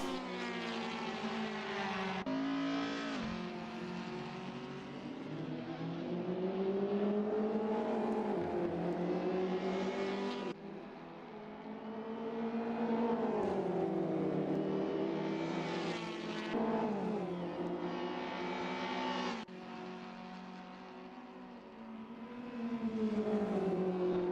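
Audi touring cars racing at Snetterton in the British Touring Car Championship, engines droning and rising and falling in pitch through gear changes, with several cars passing in overlapping waves of sound.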